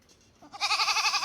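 A goat lets out a single wavering bleat, close and fairly loud after a brief quiet moment.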